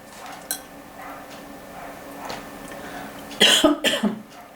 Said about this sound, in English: I'm gonna stop the camera just to cough for a while.